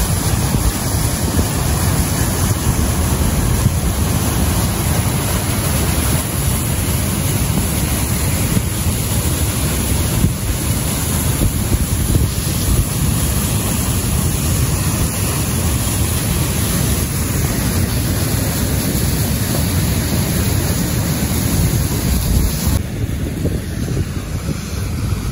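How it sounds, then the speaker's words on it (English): Steady, loud broadband rush of a waterfall pouring down a cliff on a fossil-hunting coast, with wind buffeting the microphone throughout and no voices. "There's a nice waterfall coming down from the cliff"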